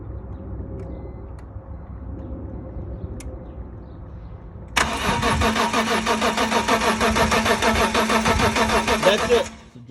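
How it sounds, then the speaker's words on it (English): A BMW E46 M3, converted from SMG to a six-speed manual, is heard first as a faint, quiet background. Then the starter cranks loudly and close in a fast, even, rhythmic churn for about five seconds without the engine catching. "I'm gonna try to show you what's happening when I try to crank the car."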